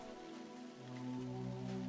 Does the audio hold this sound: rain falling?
yes